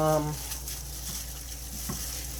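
Meat with bones is stirred for a stew in a big pot, giving a low sizzle with a few soft scraping stirs and a brief thump, close and fairly quiet with no talk.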